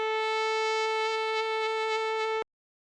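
A steady synth tone on a Seaboard GRAND, its vibrato set by finger pressure, holds a single bright pitch with faint wavering for about two and a half seconds before cutting off abruptly into silence.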